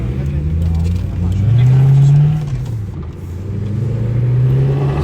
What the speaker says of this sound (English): that Corvette, dude, sounds amazing